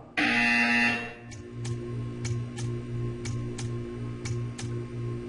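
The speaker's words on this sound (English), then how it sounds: "You will hear a buzzer." A loud, harsh electronic buzzer blares for about a second in the Portal 2 video game, followed by a run of sharp ticks over a pulsing low mechanical hum.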